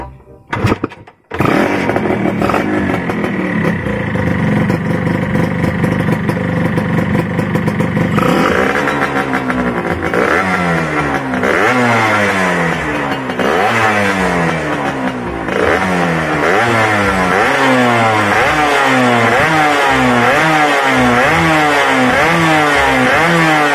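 A Suzuki Satria two-stroke motorcycle engine being started and revved hard: a loud, close, raspy buzz that climbs and falls in repeated sharp blips over a steady idle, with no talking.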